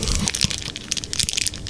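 Crunchy bites into a mint Aero double-deck chocolate bar with a crispy rice base, several loud close crackling crunches in quick succession.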